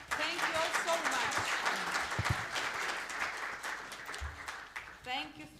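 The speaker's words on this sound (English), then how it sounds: "A beautiful round of applause again, please" An audience at a food gift challenge event applauds after a presentation, with continuous clapping under a voice speaking over it, and a brief tonal sound near the end.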